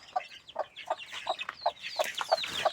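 A flock of chickens clucks close by on a farm where ducks are also kept, with short, regular calls repeating roughly three times a second and growing busier toward the end.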